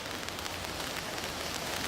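Heavy rain pours down at a seaside harbour in New Taipei, Taiwan, a dense, constant hiss of water filling the whole space without a pause.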